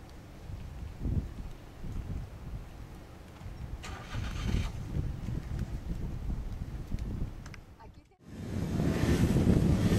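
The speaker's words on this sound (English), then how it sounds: "You can hear the wind whipping by here as we're by the lighthouse here on the southern tip of the island." Strong wind gusting past the lighthouse on the southern tip of Santorini, a steady roaring rush buffeting the microphone for the whole stretch, swelling into a louder blast near the end.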